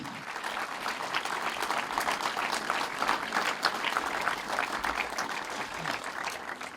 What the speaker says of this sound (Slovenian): Zato družini Schneider en lep aplavz za vaš trud.